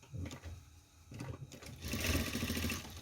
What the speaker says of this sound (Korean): 똑같이 미싱 박아주면 돼요.